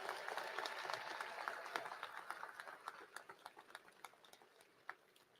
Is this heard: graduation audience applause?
yes